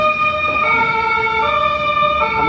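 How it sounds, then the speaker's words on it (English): Emergency vehicle sirens wail steadily along a Vienna street, rising and falling tones layered over a constant rumble of road traffic, loud and continuous. "There's a lot of sirens going off."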